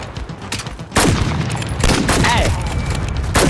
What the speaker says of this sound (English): That's still a grenade.